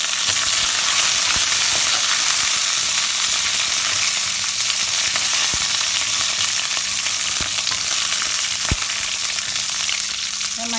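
Curry leaves and mustard seeds crackle in hot oil for puliyodharai, a loud continuous close-up sizzle with occasional sharp pops standing out over the hiss.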